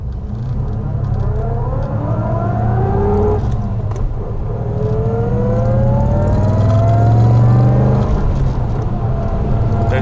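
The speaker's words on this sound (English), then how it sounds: "These engines are so flexible. They have torque right away, and they still rev nicely." A 1972 Jaguar E-Type 2+2 V12 pulls hard through its gears with a loud, smooth engine note. The pitch climbs, dips at each shift and climbs again from a nearby in-car position, with no talking.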